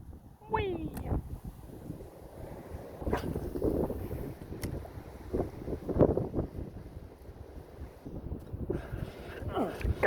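Strong wind buffets the microphone out on the water while bass fishing, a steady rough rumble with gusting swells, and a person talks and exclaims over it throughout.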